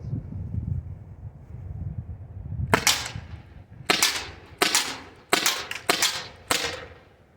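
Byrna CO2 launcher fires six sharp, loud pops in an uneven sequence outdoors, with wind rumbling on the microphone before and between the shots.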